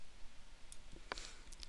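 A couple of sharp, crisp keyboard key clicks, one near the middle and a lighter tick near the end, close up over a faint room hiss.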